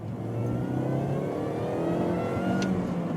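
Supercharged MINI R53 Cooper S engine pulling hard at full throttle in second gear, a steady loud rising drone with supercharger whine sustained throughout, close and alone.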